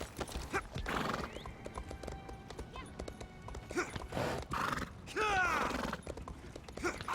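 A horse in the video game Templar clip-clops steadily close by and lets out a whinny, with creaking and light mechanical sounds over a constant background.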